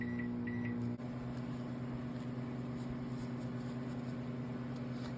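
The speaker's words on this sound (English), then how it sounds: "Take it to the microwave, put it in there for 30-second bursts until it is melted." A microwave oven hums steadily while melting soap base, with a few beeps and a brief click near the start before the running drone continues alone.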